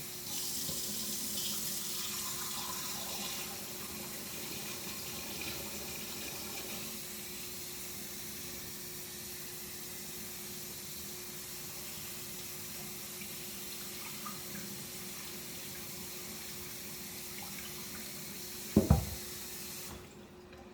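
Water runs steadily from a faucet into a sink, rinsing ground beef, a constant soft hiss with a brief clatter near the end before it shuts off.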